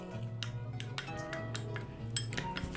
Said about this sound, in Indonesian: Kita aduk-aduk sampai tercampur rata, tercampur baur.